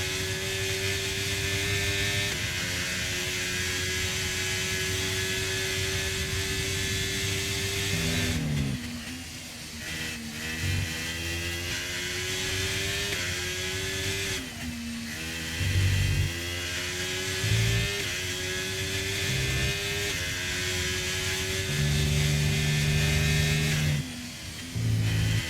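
Onboard Alfa Romeo Formula 1 car engine in an F1 racing game, a steady high-pitched whine that drops and climbs through gear shifts and corners, loud and continuous with no talk over it.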